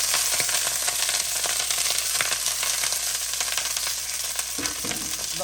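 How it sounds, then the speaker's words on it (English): Asparagus and broccolini sauté in a skillet with a loud continuous sizzle and stirring scrapes close by, still slightly wet from washing, with no voices. "we're gonna put it in our skillet along with the broccoli."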